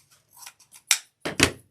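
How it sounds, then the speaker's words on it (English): Scissors snipping ribbon for a winter door hanger, several quick crisp cuts with light rustling of ribbon between them, close and clear, with no voice over the cutting. "Okay, so we're going to cut it"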